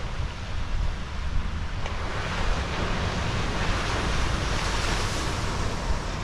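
Ocean surf washes continuously onto a beach in Phuket on a rainy day, a steady loud roar of breaking waves with wind buffeting the microphone throughout.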